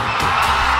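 An audience at an award event applauds and cheers, a dense wash of clapping and shouts that is loud and continuous through a brief moment.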